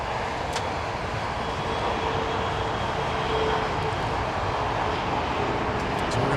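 A FedEx heavy jet takes off at LAX, a steady broadband engine roar holding at even loudness throughout with a faint whine above it, alone without voices.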